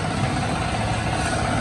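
A riding lawn mower engine runs at a steady, even drone close by, with a constant level and no voices.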